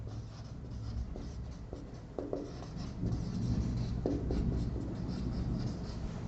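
Marker or chalk writing on a board during a physics lecture, heard as a fairly continuous scratching, squeaking texture with a few sharper strokes over a steady room hum.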